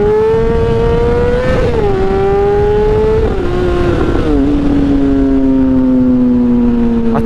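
A motorcycle engine drones loud and close, its pitch climbing and dropping through several gear changes as it pulls away, with no talk.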